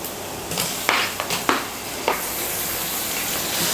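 Chopped tomato sautéing in a hot pan for Kerala mutton kurma, a loud continuous sizzle broken by several sharp spatula scrapes and clatters early on, then settling into an even frying hiss.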